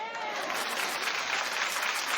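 Studio audience at a daytime TV talk show claps continuously, a bright, dense, unbroken roar of many hands with crowd noise mixed in, loud and steady for the whole stretch.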